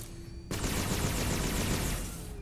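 Rapid, inaccurate automatic gunfire from a video game weapon fired at close range against robots, a dense continuous burst that starts abruptly after a short quiet moment and runs steadily loud to the end.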